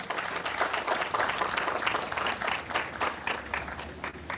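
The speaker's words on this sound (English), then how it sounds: "Give a round of applause for Elizabeth" An audience applauds at a talk on environmental solutions, giving steady, dense clapping from many hands that holds through the whole stretch, fairly distant and even in level.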